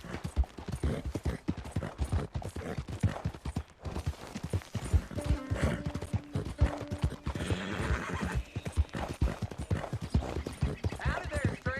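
Rapid, steady clip-clop of horse hooves close by in the video game Red Dead Redemption 2, with a horse neighing partway through over a continuous background.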